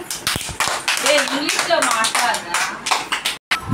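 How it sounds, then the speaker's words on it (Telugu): People clapping at a family party, a short burst of several hands mixed under lively overlapping voices, close by, ending abruptly before scattered taps. "క్లాప్స్ కొట్టండి"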